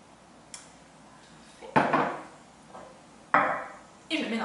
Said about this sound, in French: je vais venir incorporer mon mélange liquide au mélange sec, et je vais mélanger avec une cuillère à bois